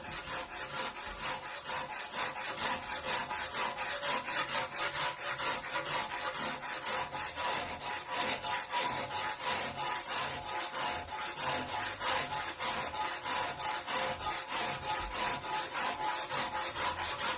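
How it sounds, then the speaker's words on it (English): Hardware-store rasp filing the surface of a limestone sculpture, shaving off a thin layer: steady, close, gritty scraping strokes repeating in a quick even rhythm throughout, with no talking. "we're going to have a go with a rasp now. This is just your Mitre 10 rasp"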